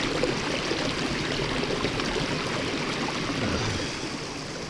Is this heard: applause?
no